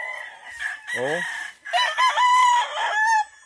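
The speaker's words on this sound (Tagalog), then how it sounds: "Puro mga tilaok ng manok." Roosters crow on a farm in Balungao, Pangasinan, with a couple of clear cock-a-doodle-doo calls and some clucking close by, and a voice briefly exclaims.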